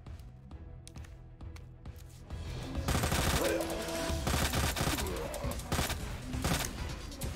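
SMG gunfire in Resident Evil 2 Ghost Survivors: a few sparse sharp shots, then rapid, dense automatic bursts that rattle on loudly for several seconds with brief pauses.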